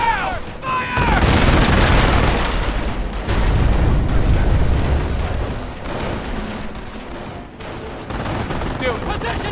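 MG-42 machine gun fire in the World War Two strategy game Company of Heroes, near-continuous heavy bursts of automatic fire and booming explosions of battle, with soldier voices shouting in between.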